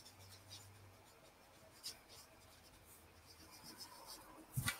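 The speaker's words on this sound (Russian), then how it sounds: "Напиши сверху «ценности»." Pen writing on a sheet of paper or notepad page, a faint, soft scratching with a few light taps and a louder scrape near the end, in a quiet room with no talking.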